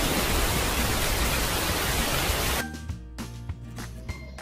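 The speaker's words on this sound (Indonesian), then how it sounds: "bunyi air hujan turun" Steady, dense hiss of rain falling, then it cuts off into quieter scattered knocks and tones.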